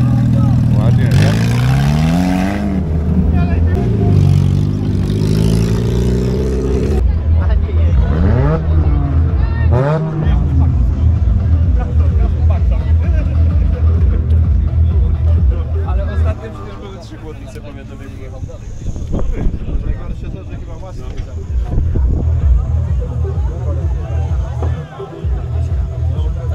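A Fiat Seicento drives in a wreck race at Kościerzyna, its engine droning and revving loudly with other race noise, while people talk over it throughout.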